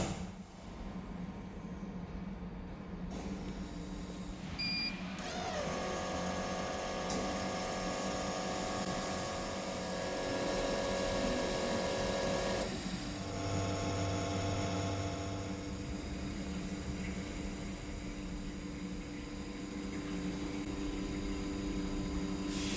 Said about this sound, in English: And now we can power up the lathe.